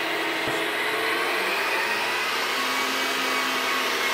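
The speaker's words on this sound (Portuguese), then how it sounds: "ela tem um barulho de engrenagens de baixa rotação, é meio alto" Steady mechanical whir of an Oster Heatsoft stand mixer's gears turning at low speed, a fairly loud continuous hum and grind with no talking.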